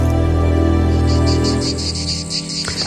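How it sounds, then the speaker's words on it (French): Cicadas chirping in a garden, a dense steady buzzing chorus with pulsing high trills, loud and continuous, fading slightly toward the end, no talking. "ça fait plaisir d'écouter ces bruits de cigales"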